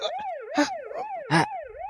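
A police car siren wails in a rising and falling cycle, loud and close, with two short bursts of other noise cutting across it, in an Ilocano drama scene.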